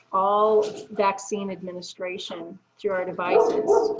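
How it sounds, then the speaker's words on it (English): Dogs bark in the background while someone speaks steadily in the foreground, the barks faint and partly buried under her voice. "Sorry for the dogs in the background."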